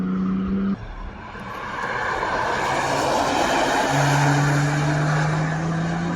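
A BMW 2 Series prototype drives past on the Nürburgring, its engine note swelling from a distance into a loud, sustained roar with a steady rising tone, heard on its own.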